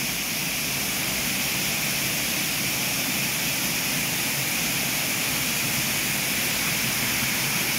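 Water from a man-made stream and small waterfall in a park after a typhoon rushes in a steady, dense hiss that stays loud and unbroken throughout, with no voices.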